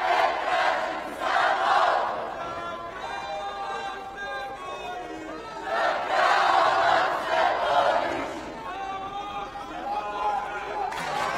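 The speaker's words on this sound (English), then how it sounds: "Great support coming from the crowd here for their man, Josic." Crowd at a European Karate Championship kumite final for the men's -67 kg class, a loud supportive roar for Serbian fighter Stefan Joksic that swells in waves and sometimes rises into chanting, heard beneath a commentator's voice.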